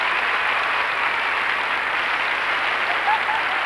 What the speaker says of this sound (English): Two British couples, one after the other, have made this audience stand and applaud.